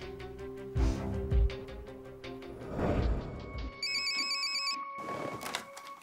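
A telephone rings in a dramatized reenactment of a mysterious call to a woman before her disappearance: a repeating electronic ring pattern cuts in clearly over a busy background of music and effects, with no talk.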